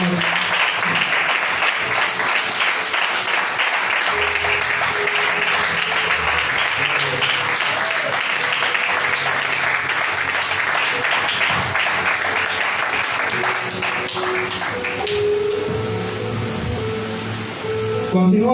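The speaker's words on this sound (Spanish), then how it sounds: "me gustaría que le haga fuerte las palmas al Señor" A church congregation claps hands loudly and continuously, a dense wash of applause that holds steady for most of the stretch before thinning toward the end.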